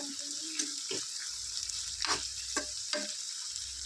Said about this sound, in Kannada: ಇವಾಗ ಟೊಮೆಟೊ ಸಾಫ್ಟ್ ಆಗೋವರೆಗೂ ಚೆನ್ನಾಗಿ ಫ್ರೈ ಮಾಡ್ಕೊಂಡು ಬಿಡಬೇಕು